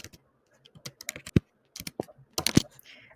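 An email being typed on a computer keyboard, with quick irregular clusters of close, crisp key clicks and a few heavier keystrokes, separated by brief pauses in a quiet room.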